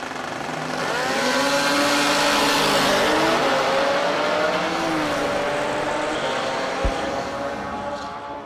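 Racing buggy engine at a motorsport race sweeps past, its pitch rising and falling as it approaches and recedes, loud in the middle and fading toward the end, with a faint announcer voice in the background.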